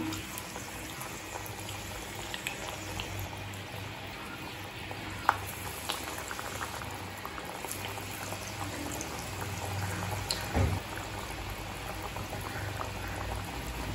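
Masala vadai deep-frying in hot oil on medium flame, a steady soft bubbling and crackling that stays faint and even throughout, with one brief clink partway through.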